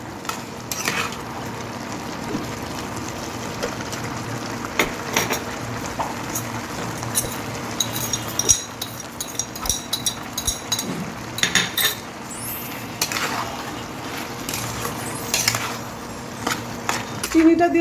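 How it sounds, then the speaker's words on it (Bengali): A spoon stirs sugar into a pot of simmering Gobindobhog rice and papaya, with intermittent metallic clinks and scrapes against the pot over a soft bubbling background, close and moderately loud. "চিনিটা দিয়েও ভালো করে নাড়াচাড়া করে নিয়েছি।"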